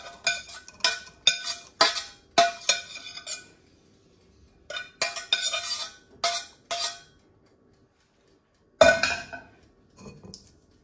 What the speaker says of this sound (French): On va revenir sur un petit pot comme ça. On va égoutter l'ensemble.